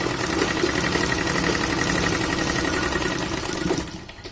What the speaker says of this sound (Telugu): ఇట్లా స్టిచ్ చేసుకోవాలి.